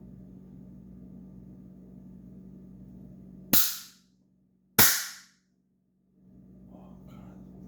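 Two sharp, loud pops from a hand blaster trick noise maker snap out about a second apart against a quiet room hum, then fade to near silence.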